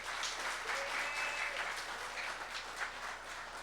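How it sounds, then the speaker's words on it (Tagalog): Church congregation applauding during a worship service, a sustained crowd clapping heard at moderate distance with a faint voice or tone briefly above it. "Malakas na palakpak."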